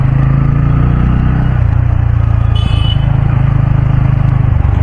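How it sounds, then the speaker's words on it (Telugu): Busy road traffic rumbles loudly and continuously with motorcycle and car engines, and a short horn honk cuts through near the middle. "ఇప్పుడు రష్ ఉంది, ట్రాఫిక్ రష్ బాగుంది కదా"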